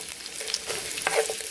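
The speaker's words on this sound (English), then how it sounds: "I'm gonna start frying the onion with the meat." Onion frying together with meat in a pan for the traditional Guerrero dish aporreado, a close, steady sizzle with soft crackles and a brief stirring scrape, no voices.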